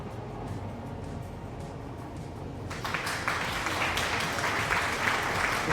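Applause sound effect inside the factory-building game Satisfactory, starting partway through as a loud, bright wash of clapping over a steady low rumble of machinery that runs throughout.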